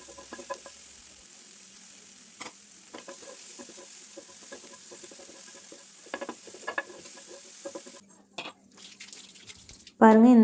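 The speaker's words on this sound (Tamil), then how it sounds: "ஒரு தக்காளி ஆட் பண்ணிக்கலாம். அதுவும் அதே மாதிரி வதக்கி எடுத்துக்கலாம்." Tomato sautés in hot oil for butter chicken, giving a soft continuous sizzle broken by repeated spatula stirring and scraping strokes, followed by a louder clatter at the end.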